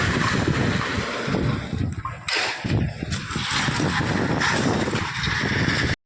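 Strong wind roaring steadily across an open outdoor spot ahead of a forecast cyclone, with light rain falling, loud and continuous with gusty buffeting against the microphone throughout.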